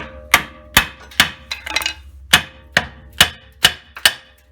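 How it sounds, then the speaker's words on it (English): A hammer striking metal in steady, ringing blows while installing a Dana 30 Spartan Locker axle on a Jeep Cherokee, about nine or ten hits at an even rhythm, loud and close. "Get your hammer and pry bar."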